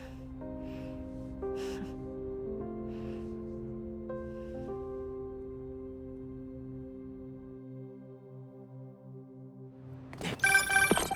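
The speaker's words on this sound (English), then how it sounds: "That was my friend Angela on the phone." A phone ringtone in Marvel's Spider-Man 2 plays as a steady, clear melodic series of sustained tones for about ten seconds, then ends in a brief burst of noise.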